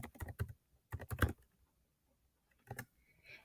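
Rapid bursts of keyboard typing, a quick cluster of keystrokes, a pause, then a few more taps, close and fairly quiet.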